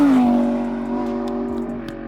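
A Lamborghini Huracan engine sounds off close and loud, a sharp rev whose pitch falls and then settles into a steady, sustained droning note over about two seconds.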